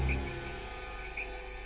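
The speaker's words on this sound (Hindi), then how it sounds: "झिंगुरों की आवाज ने सन्नाटे को तोड़ा" Crickets chirp in a quiet night setting, a thin high trill pulsing faintly and repeatedly over a low steady hum, with no voices.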